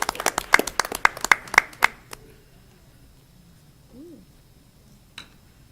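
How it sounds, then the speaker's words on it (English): A brief round of scattered applause at a city school board work session, a dozen or so near, sharp claps fading after two seconds into a quiet room. "Let's give him another round of applause."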